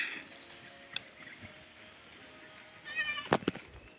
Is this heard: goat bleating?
yes